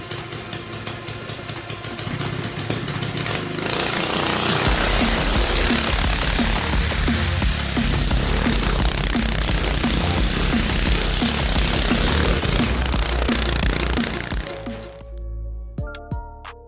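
A restored old go-kart's small engine starts up and runs loud and steady through the ride, with a rough, buzzing drone and rhythmic pulsing, then cuts off near the end, leaving quiet ticking and faint sounds.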